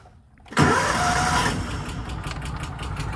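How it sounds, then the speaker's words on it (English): A Kawasaki Mule 550 utility vehicle found in a barn fires up on half choke after a short quiet moment, then settles into a loud, steady close-up engine run. "Okay, there she goes. Yeah, the thing kind of clicks funny until you give it gas"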